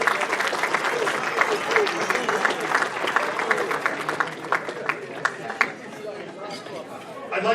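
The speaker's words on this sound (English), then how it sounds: "So a round of applause for our staff and for our catering crew." Audience at an athletic hall of fame induction dinner applauding the athletic staff and catering crew, sustained dense clapping from a roomful of people with chatter mixed in, fading slightly toward the end.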